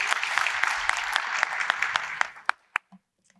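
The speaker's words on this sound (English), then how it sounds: "Let's show our appreciation with a round of applause." An audience applauds after a lecture at a science meeting, dense steady clapping that carries for over two seconds and then thins to a few final scattered claps before silence.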